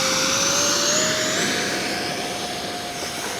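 An RC jet plane's turbine engine runs at full power nearby, a loud, steady high whine with a sustained rushing roar that eases slightly after the first seconds.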